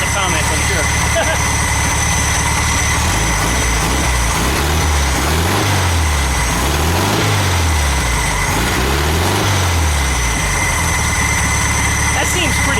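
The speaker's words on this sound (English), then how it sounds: "Don't rev a cold motor." A VW Super Beetle engine runs cold on its first start, a loud, steady idle with a rough low throb that swells and dips in slow, regular pulses, and a voice is heard over it.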